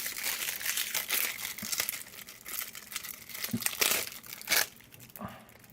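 Crinkly foil wrapper around a Pokémon card code is crumpled and torn open up close, a busy run of rustles and sharp crackles with a few louder tears and pauses, no voice over it.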